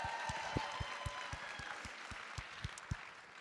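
An audience at a Women Employed working lunch claps in a steady, even rhythm of sharp claps, several per second, fairly soft and without voices.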